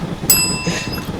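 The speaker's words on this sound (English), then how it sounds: "Whenever I hear the bell go off" A bell dings once sharply with a ringing, fading tone during a casual livestream chat, standing out against low background noise.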